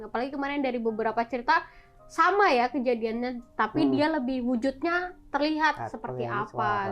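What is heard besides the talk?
No everyday noise stands out behind the speech.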